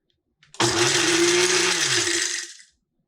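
A blender runs a single short pulse on its stir setting on a handful of home-grown coffee beans, a loud whirring motor burst with rattling beans that starts abruptly and stops after about two seconds, alone in a quiet room.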